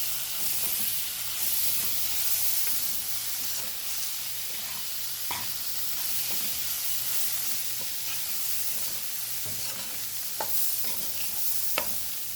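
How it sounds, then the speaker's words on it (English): Rice with onion, garlic and curry powder frying in oil, a steady broadband sizzle and hiss with occasional soft stirring clicks and scrapes, close and continuous with no talking. "we're going to cover this and allow it to fry in the oil for 15 minutes"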